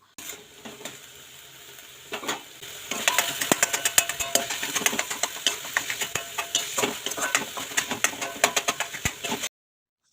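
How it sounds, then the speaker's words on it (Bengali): Drumstick flowers stirred with a ladle in a pan while a Bengali sojne phool chorchori is cooked, giving steady scraping and clinking strokes over a soft sizzle. A quiet start leads into dense, rhythmic stirring that runs to the end. "তো আমি এইভাবে হাতা দিয়ে একটু ঘেটে ঘেটে দেবো"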